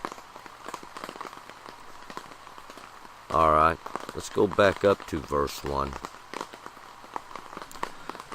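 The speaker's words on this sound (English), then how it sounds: "That's the sound of the rain hitting the tent." Rain falls on a tent in a steady, soft patter throughout, while someone speaks briefly in the middle over it.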